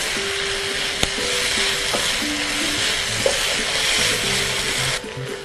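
Noodle stuffing stir-fried in a pan over a high flame, a loud steady sizzle and crackle throughout, with a couple of faint spatula clinks, close and continuous with no talk.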